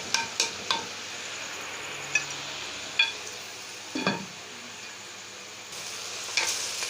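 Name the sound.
spinach being stir-fried in desi ghee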